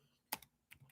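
A few quiet, close clicks of a computer keyboard being typed on, two light bursts of keystrokes with short gaps between.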